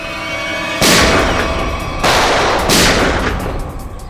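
Gunfire at a sea beach comes as sharp, loud cracks, with three heavy bursts over a few seconds on top of a steady background rumble and no talking.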